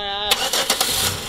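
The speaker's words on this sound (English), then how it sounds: "there's a car idling right now" A car engine starts up and settles into a close, rough idle with a few irregular bumps. A brief tonal sound comes just before it, and a person's voice is also present.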